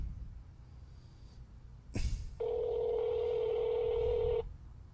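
A telephone being dialed, then a steady ring tone of about two seconds sounding fairly close after a brief click, with low background hum and no talk.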